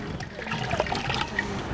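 Water poured into a pot over browned garlic to cook rice, a steady splashing gush that goes on throughout, close and moderately loud, with no talking over it.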